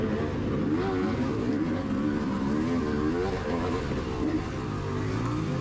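A KTM dirt bike racing through a hare scramble at Brushy Mountain: a continuous, rough engine buzz with wavering pitch as the throttle rises and falls, steady in level and somewhat muffled.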